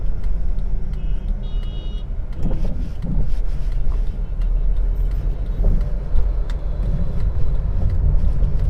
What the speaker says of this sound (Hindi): स्लो मूविंग ट्रैफिक में मैंने सेकंड गियर में स्लोली कार को मूव किया है।